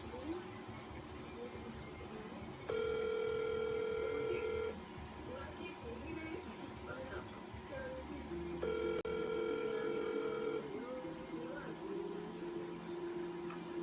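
Ringback tone on an outgoing phone call, two long steady electronic ringing bursts separated by a pause, heard faintly over quiet background with a voice speaking in between.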